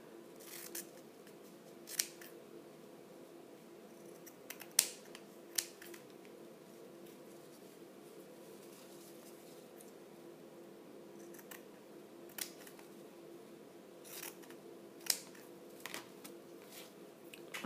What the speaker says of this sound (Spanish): y vamos a cortar en diagonal